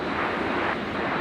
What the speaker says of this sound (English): Watch the wings as it touches down.